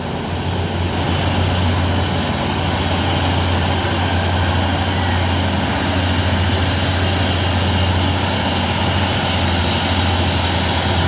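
Hino trucks labour up a hill with a loud, continuous low engine drone and rumble, heavy and close throughout, with a faint hiss near the end.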